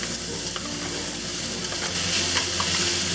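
Garlic, ginger, onion and pepper are stirred in a hot pan for a tofu, okra and mushroom stir-fry, a loud close sizzle with scraping and clinking from the utensil, and no one speaking.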